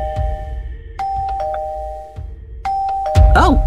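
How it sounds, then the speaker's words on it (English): A Minecraft doorbell rings with clean, sustained electronic chime tones in several separate presses, followed by a brief burst of a high wavering synthetic sound at the end. "Oh, that's the doorbell."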